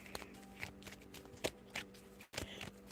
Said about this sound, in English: let me stop just shuffling.